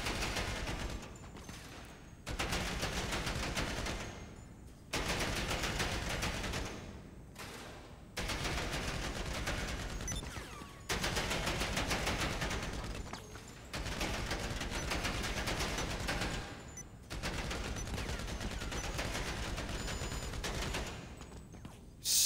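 Combat MG machine gun in GTA Online firing long sustained automatic bursts, about seven of them separated by short reload gaps, loud and close with no other sound.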